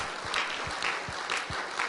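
A church congregation gives applause of praise to Jesus, a dense, even clapping of many hands that rises and falls in gentle swells at moderate loudness.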